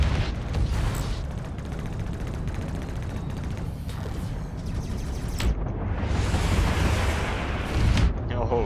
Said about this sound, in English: missile barrage. Three missile strikes all one time.